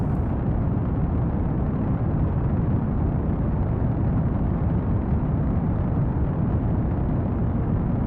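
Rocket launch in a video game, a dense roaring rumble that holds steady and loud throughout, thick and continuous like a rocket engine firing, with no voices.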